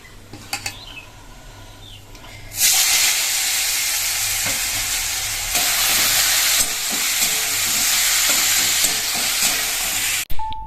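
A few utensil clinks, then a loud, continuous sizzle of carrot, potato and onion greens frying in a pan, with occasional stirring scrapes, close and steady until it cuts off.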